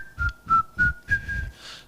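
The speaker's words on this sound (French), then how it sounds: "Siffler en travaillant." Someone whistles a short melody up close, a series of clear sustained notes with brief pauses, while soft low thumps sound underneath.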